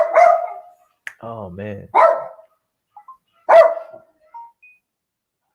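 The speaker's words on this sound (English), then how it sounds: "Dude, stop barking." A pet dog barks several times in sharp, close bursts with pauses between them, while someone speaks briefly in between.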